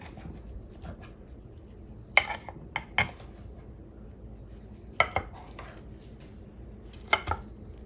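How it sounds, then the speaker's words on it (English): A knife cuts through taco pie in a pan, making a handful of sharp clacks and scrapes against the metal, spaced irregularly over a low background hum. "So I'm going to go ahead and cut this into slices before I put the toppings on."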